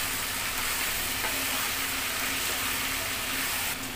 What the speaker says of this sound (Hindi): चलिए इनको अच्छे से भून लेंगे 5 मिनट